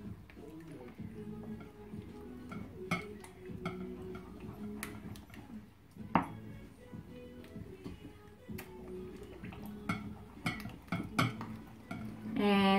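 A spoon scrapes and clinks around a bowl as cheesecake filling with vanilla essence is mixed, light irregular taps and stirring strokes, close and fairly quiet.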